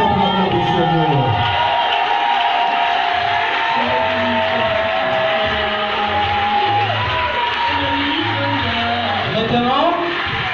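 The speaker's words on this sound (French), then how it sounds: "Acclamez bien cette maman du Seigneur." A wedding hall crowd cheers and acclaims the bride, loud sustained shouting, whooping and ululating voices continuing throughout, with speech mixed into the din.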